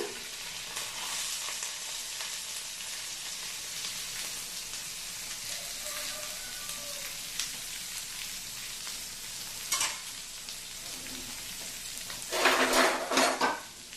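Onions and curry leaves fry in a pan with a steady close sizzle, while a utensil stirs and scrapes against the metal now and then. Near the end there is a louder burst of stirring and clatter.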